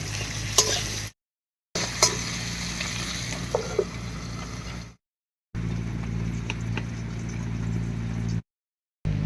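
Chopped jackfruit seed pieces stirred in hot tempering oil in a pan for a vegetarian Bengali dish, a steady sizzle with scraping stirs, broken by short silent gaps.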